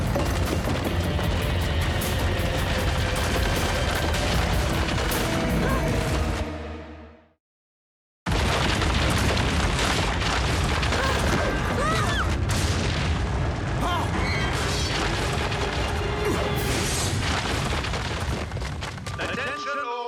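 A warning cannon shot from a Transformers: Rescue Bots cartoon booms heavily, with a dense rumbling blast that drops into brief silence before another loud, sustained explosive roar continues under the soundtrack.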